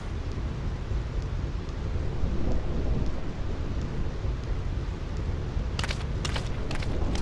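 A heavy thunderstorm with rain in the video game Final Fantasy X roars as a dense, loud, continuous wash of rain and rumbling, with sharp crackles near the end.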